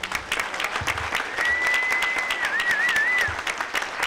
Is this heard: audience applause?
yes